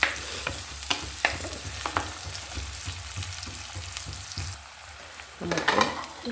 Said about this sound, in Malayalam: പച്ചമുളക്, ഇഞ്ചി, വേപ്പില അതൊന്ന് വഴറ്റി കേട്ടോ.